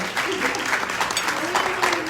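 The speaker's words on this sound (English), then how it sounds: "So give yourself a round of applause, please." Audience at a conscious co-op community event applauding steadily for about two seconds, a dense, even patter of clapping with some voices mixed in.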